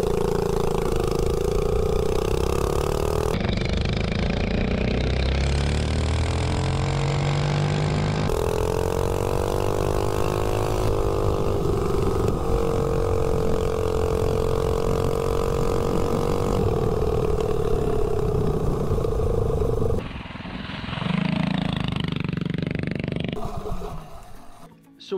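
Carbureted engine revving hard on a top-speed run, a loud sustained drone with rising pitch that sputters and cuts out briefly near the end, then drops away.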